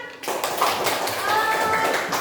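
Classroom applause from children, a burst of rapid overlapping hand claps filling the room close by, steady for a couple of seconds with young voices mixed in.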